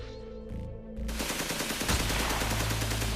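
Rapid automatic gunfire erupts after a moment of quieter sound, a dense, loud, continuous burst of shots that keeps rattling to the end.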